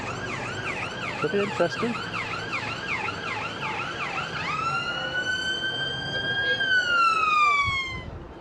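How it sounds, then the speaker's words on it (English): An ambulance siren on a Blackpool street wails in a rapid rising-falling cycle, then switches to a long sustained tone as it passes close and loud; a voice briefly speaks early on. "By the way, that's an ambulance"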